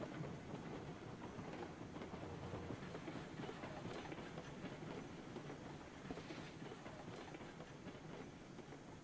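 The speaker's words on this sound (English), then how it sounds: "this will at least bring the train closer to our work zone" A train rolls along tracks in the Railroads Online video game, giving a steady, continuous rumble with faint rhythmic clatter and a light hiss throughout, with no talking.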